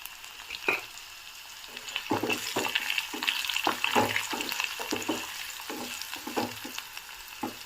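Curry leaves and garlic cloves sizzle steadily in hot oil for a cauliflower pickle, with a loud continuous crackle broken by repeated clicks and taps of a spoon stirring the pan.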